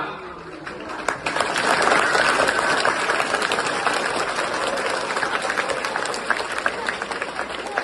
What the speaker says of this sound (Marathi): तुम्ही टाळ्या खूप छान वाजवता